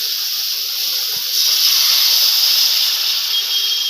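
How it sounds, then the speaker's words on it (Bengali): Water is poured into a hot pan holding poppy seed paste and chillies, making a loud, steady hiss and sizzle that swells partway through and keeps going. "এবার বন্ধুরা জল দিয়ে দেবো"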